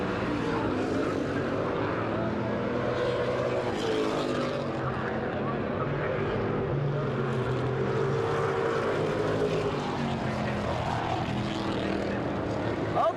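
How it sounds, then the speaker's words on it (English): Vintage sportsman stock cars with big 427 V8 engines roar past at Concord Speedway, a loud, continuous throaty drone that swells and fades as the pack storms by on the front straight. "You can hear the roar of these big throaty 427 V8s as they come storming"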